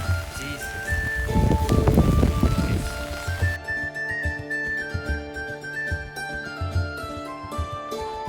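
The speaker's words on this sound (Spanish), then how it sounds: "Una hora después y mira la lluvia." Summer rain in Dublin falls steadily, a dense hiss of drops with wind buffeting the microphone that is loudest early on, while music plays over it throughout.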